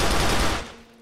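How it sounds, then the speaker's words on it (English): The auto pistol from GTA IV: The Lost and Damned fires a rapid, loud burst of shots that ends in a short decaying tail. "Here from The Lost and Damned we have the auto pistol"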